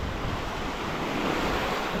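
Sea waves breaking on the shore at Šventoji beach on the Baltic coast, a steady, loud wash of surf with wind buffeting the microphone, no voices.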